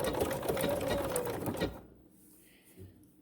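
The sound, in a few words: BERNINA sewing machine stitching decorative corded pintucks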